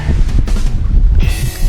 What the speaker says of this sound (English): Yeah, the wind keeps blowing